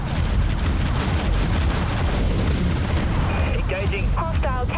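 A warship fires a torpedo salvo in the Dreadnought game, and continuous booms and explosions rumble at moderate loudness, with voices heard near the end.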